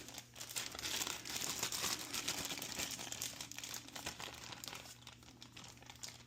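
Plastic packaging from a HelloFresh spinach-artichoke pizza kit crinkles and rustles steadily as pizza dough is worked out of it, close and continuous over a low steady hum, with no talking.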